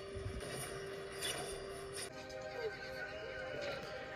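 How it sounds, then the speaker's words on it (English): Horses neigh and whinny over clopping hooves in a fantasy K-drama fight scene, loud and steady throughout, with voices faintly mixed underneath. "Now this is just a horse scene."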